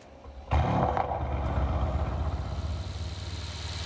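A car engine in the video game Test Drive Unlimited Solar Crown cranks and fires into a loud roar, then settles into a rumbling idle close by.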